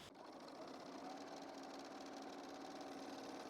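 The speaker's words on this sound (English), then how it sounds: "I'm going to be using a 3-thread narrow seam as my overlock stitch." An overlocker runs a 3-thread narrow seam on blouse fabric, a fast, even mechanical whir with rapid stitching chatter that starts abruptly and holds steady close to the microphone.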